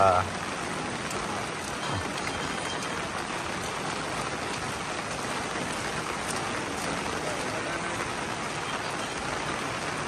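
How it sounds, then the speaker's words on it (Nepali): Heavy rain falls in Kathmandu, a dense, constant hiss of downpour on surfaces that continues without a break, loud and close around the listener. "काठमाडौँमा भारी वर्षा भइरहेछ है, भारी वर्षा।"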